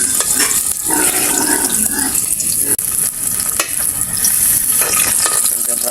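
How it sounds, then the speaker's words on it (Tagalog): Garlic sizzles and crackles as it is sautéed in a hot pan for pork chilimansi, with steady loud frying and scraping stirring throughout. "magigisa na tayo. Gisa na tayo. Bawang."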